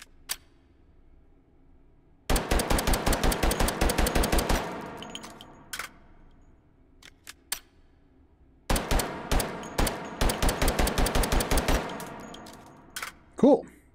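Gunfire in the VR game Hot Dogs, Horseshoes & Hand Grenades: two loud rapid bursts of about a dozen shots each from a pistol with a 13-round magazine, separated by a pause with a few single shots and a metallic clack at the end.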